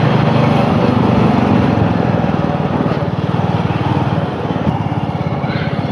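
A motorcycle rides along a road between Kolkata and Arambagh, its engine producing a loud, steady, continuous drone mixed with wind rush throughout.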